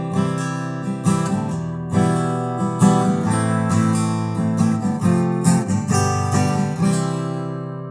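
A guitar strums a basic chord progression in C in steady, ringing chords. The strums are close and clear, each followed by a short decay, with no voices.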